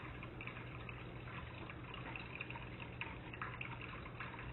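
Water filters through moss above a tunnel and falls in a steady, faint trickle, with soft patters of drips over a continuous wet hiss.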